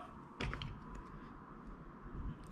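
A quick, crisp snip of small scissors trimming fishing line after tying an FG knot near the start, then a faint second cut toward the end, over a quiet room.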